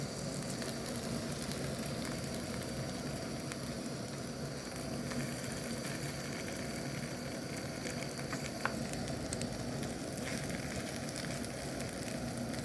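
Chinese cabbage pancake batter fries in a pan with a steady, even sizzle and crackle that holds at the same level throughout, close by and without speech.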